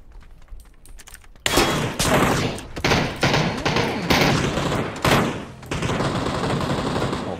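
Gunfire in PUBG: faint scattered shots, then loud rapid bursts of automatic fire with short pauses between volleys, close and dominant, no talking.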